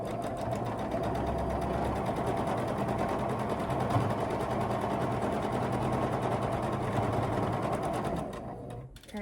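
A sewing machine runs a quarter-inch seam on a quilt block, a close, steady mechanical whir that continues evenly for several seconds before slowing and stopping at the end.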